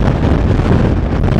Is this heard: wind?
yes